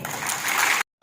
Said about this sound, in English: Claps for it.